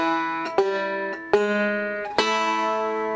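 Intermediate bluegrass banjo playing the Salt Creek lick, with plucked pinches and rolls: four sharp string attacks whose bright harmonic notes ring on between them, clean and close with no voice.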